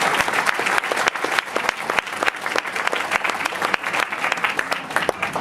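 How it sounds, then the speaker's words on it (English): Loud, dense applause from a crowd at an elementary school groundbreaking ceremony, steady and sustained throughout for students being honored. "Let's give them another round of applause."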